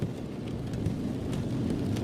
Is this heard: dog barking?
no